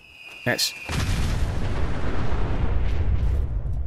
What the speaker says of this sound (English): It's a mini nuke that splits into more mini nukes